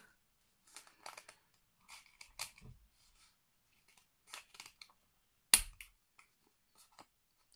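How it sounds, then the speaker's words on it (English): Scissors cutting material into squares, a series of short, quiet, crisp snips arriving in small irregular clusters in a quiet room, with one louder snip near the end. "now I'm going to cut them again longwards into squares"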